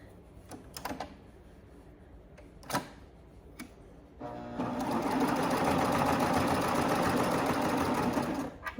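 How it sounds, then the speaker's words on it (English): A sewing machine runs a steady continuous stitch along the front seam of a pair of leggings, loud and close for several seconds after a few faint clicks and taps. "We're just sewing along those 2 raw edges, closing up the front seam of our leggings."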